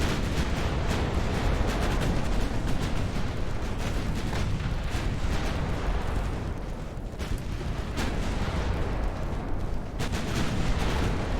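Naval battle in Ultimate Admiral Dreadnoughts with torpedoes and warship gunfire: dense, continuous booming cannon fire and explosions layered into a loud roar with repeated heavy impacts, no voices.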